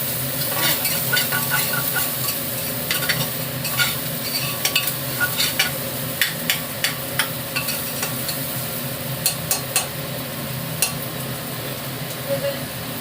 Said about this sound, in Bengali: পেঁয়াজগুলো দিয়ে দিয়ে একটু নাড়াতে হবে হালকা, যাতে একটু গোল্ডেন ব্রাউন কালার আসে